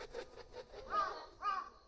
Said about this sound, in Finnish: Ihan isoja lintuja.